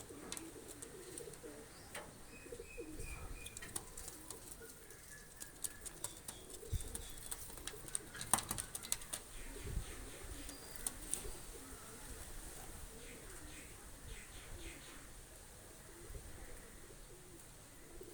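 Soft, low coos from a pair of red-necked racing pigeons repeat throughout over a faint background hum, with a few brief rustles and clicks scattered in between.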